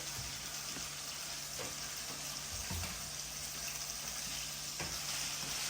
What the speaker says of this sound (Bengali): এদিকে চিকেনের মশলাগুলো কষাচ্ছি